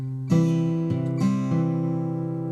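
Acoustic guitar plays an alternating bass line against syncopated chords, with a few clear plucked attacks ringing out close and alone.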